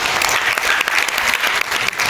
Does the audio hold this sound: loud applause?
yes